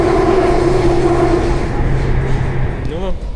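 A metro train ride in Thailand: a steady, loud rumble and rolling roar from inside the car, with a rising electric whine near the end as the train changes speed.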